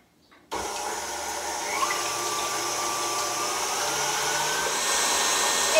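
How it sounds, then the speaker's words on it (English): Electric whisk starting up and running steadily, whisking eggs to soft peaks for a Mother's Day cake, a sudden loud motor whir that holds a constant droning tone throughout. "And whisk them until they form soft peaks."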